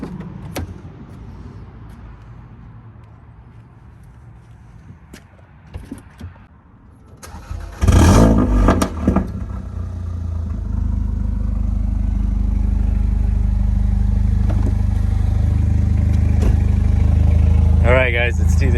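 A Mercedes-AMG CLA 45 with all-wheel drive and Toyo R888 tires, fitted with an AEM boost gauge, fires up abruptly after a quieter stretch with some talk. It then settles into a loud, sustained engine roar that gradually swells.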